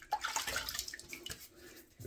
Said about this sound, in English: So I'm just going to wet my face here a little bit.